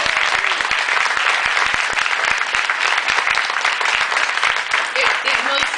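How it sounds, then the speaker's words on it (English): A large audience at a student veteran medallion ceremony breaks into sustained, loud applause, dense clapping filling the room for several seconds without pause. "Can we get a round of applause?"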